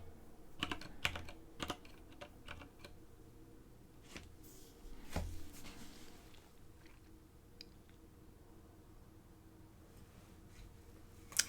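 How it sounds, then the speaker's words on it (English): Computer keyboard typing in short bursts of sharp key clicks while building a game in World Builder, with pauses between the flurries, quiet and close. "I have to completely retype it, or at least, backspace to that letter to change it."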